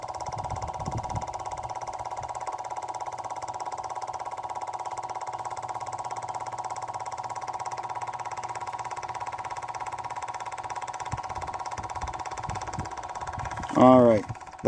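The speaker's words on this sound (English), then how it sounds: "I'll put the ignition on, and I've opened the fuel path, so we should hear this thing start doing some work." A small engine runs steadily for the whole stretch, a constant mid-pitched hum, after the ignition is switched on and the fuel path opened; near the end a short louder burst of speech-like voice rises over it.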